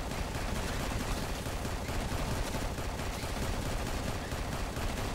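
A turret in the video game Anvil fires continuously, a dense rapid rattle of automatic gunfire that stays loud and unbroken, with no voices.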